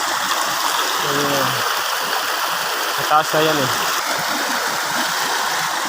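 A river flows steadily, a constant broadband rush of water filling the background while someone speaks briefly over it.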